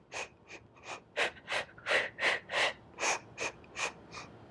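Heavy, rhythmic breathing during a Pilates exercise: about a dozen sharp, close inhales and exhales in quick, even succession, each a breathy burst with brief pauses between, no talking.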